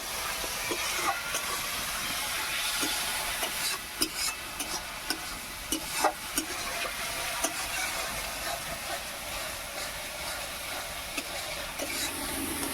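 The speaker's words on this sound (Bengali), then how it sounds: "মশলাটাকে বেশ ভালোভাবে কষিয়ে নেব" Spice paste of ground turmeric and a little water being sautéed in a pan for a mustard fish curry, a steady broadband sizzle with scattered stirring scrapes and clicks throughout.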